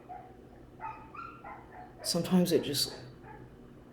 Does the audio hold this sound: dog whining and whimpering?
yes